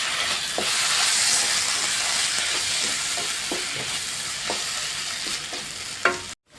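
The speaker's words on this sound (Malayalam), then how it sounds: "ഇനി ഇതെല്ലാം കൂടെ നന്നായിട്ടൊന്ന് മിക്സ് ചെയ്യാം." Mughlai chicken masala gravy with tomato sauce stirred and frying in a pan, a steady loud sizzle with repeated scraping spoon strokes, ending in a sharp clatter and brief silence.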